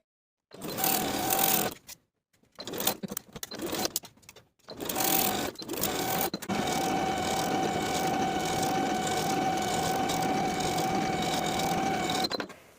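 Sewing machine stitching a seam on linen shorts, close and loud in several start-stop bursts, then one long unbroken run at a steady speed.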